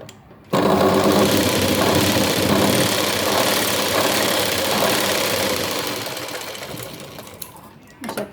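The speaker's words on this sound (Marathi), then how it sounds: "या साईडने अगोदर शिलाई मारून घ्यायची" A sewing machine runs steadily for about seven seconds, stitching a blouse piece along its lower edge in a tailoring demonstration. The whirring is loud, close and continuous, starts abruptly and eases off slightly toward the end.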